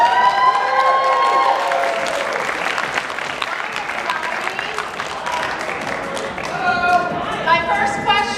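An indoor convention audience gives a round of applause, a dense wash of clapping that swells and continues for several seconds, with voices and cheers mixed in and the crowd near and loud.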